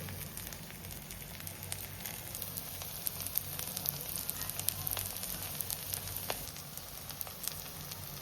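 Uttapam cooks in oil on a pan over low heat, giving a steady, soft sizzle with scattered small crackles and pops throughout, with no talking.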